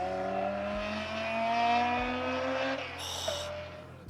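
A Honda S2000 is driven hard around the smaller course at Fuji, its engine note steady and rising as it climbs through the revs with a sustained tone, then dropping away, heard from nearby with no talk.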